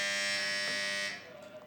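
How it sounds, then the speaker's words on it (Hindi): Quiz show answer buzzers being test-rung in a studio during an iftar transmission: a loud, steady electric buzzing tone holds for about a second, then cuts out, leaving a faint room murmur. "एक दफ़ा घंटियाँ बजा के देख लें"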